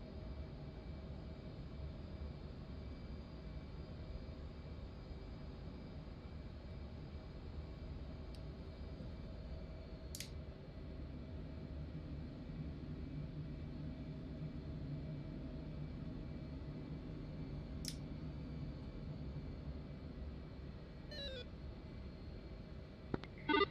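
Steady aircraft engine drone from a jet departing an aircraft carrier in the flight simulator game DCS, a continuous low rumble throughout with a few brief radio beeps and chirps over it.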